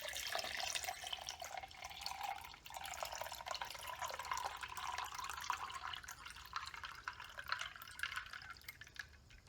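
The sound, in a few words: pouring coffee into tumbler with ice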